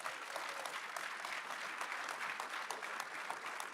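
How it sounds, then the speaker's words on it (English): Steady applause from a conference audience closing a panel session on Bitcoin and AI, dense clapping sustained evenly at moderate distance with no speech over it. "Please give them a round of applause."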